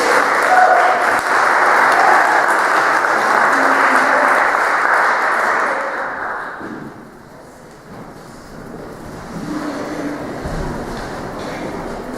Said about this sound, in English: let's give the Trailblazers a round of applause for helping us